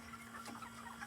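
Rooster meat birds in a gas-powered chicken tractor give soft clucks, faint and close, over a steady low hum.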